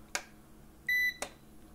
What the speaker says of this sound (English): Hold it for a second, and then the transmitter will beep